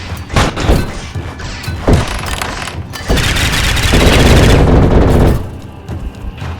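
Missile ray attack firing in the action-adventure video game City of Springs: a few sharp bursts, then a loud sustained barrage lasting about two seconds before fading back to scattered hits.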